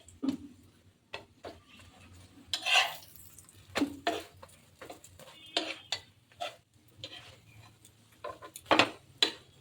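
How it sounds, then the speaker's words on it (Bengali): An aloo paratha fries on a low flame on a pan while being pressed down, heard as sparse spatula taps and scrapes with faint low sizzling between them, quiet and intermittent. "এই যে চেপে চেপে লো ফ্লেমে পোয়াটাটাকে ভেজে নিচ্ছি"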